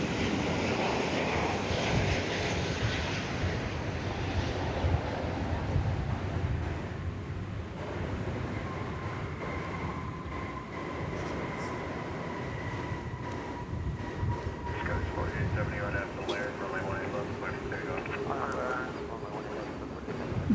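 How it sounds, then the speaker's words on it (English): An American Airlines Boeing 777-200ER jet arriving at DFW Airport from Los Angeles makes a sustained engine roar and whine that builds and then fades, with a voice talking over it. "307, a 777, coming in from Los Angeles, California. 777-200ER."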